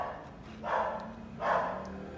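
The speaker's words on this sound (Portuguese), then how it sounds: "esse cachorro que tá latindo" A neighbor's dog barks twice, a second or so apart, sounding faint and somewhat distant over a quiet background.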